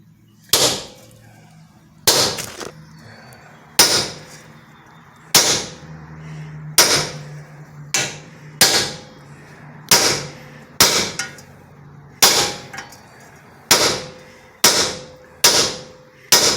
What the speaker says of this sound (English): We're trying to drive the chisel down between the bearing and the spindle.